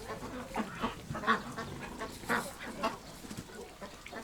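A heavy duck, its belly dragging on the floor, quacks several times in soft, irregular bursts, fairly faint and close by, with some low background noise.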